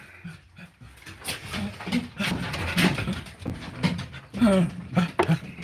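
Benny the dog gives several close panting breaths and short whimpering yips, with a person talking loosely alongside.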